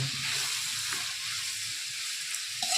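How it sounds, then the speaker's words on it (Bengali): Rice fries in hot ghee with sugar, raisins and nuts, a steady, close sizzle and faint stirring. "ঘি দিয়ে ভাজছি।"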